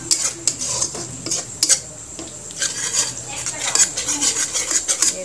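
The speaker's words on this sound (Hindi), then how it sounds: "दही अच्छे से मिलना जाए तब तक इसको ऐसे चलाते रहे।" Curd being stirred into a chickpea, pea and paneer chhole curry in a pot, with repeated scraping, clinking spoon-on-metal strokes at an uneven rhythm, close and moderately loud.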